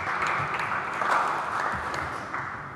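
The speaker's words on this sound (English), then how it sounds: "I would even think it might deserve a round of applause." Light, scattered applause from a lecture audience, a brief patter of hands at moderate distance that holds steady for a few seconds, with no voices over it.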